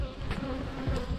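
Honey bees buzzing around a beehive during a late-season honey harvest, a steady close hum of many insects with brief louder passes, no voices.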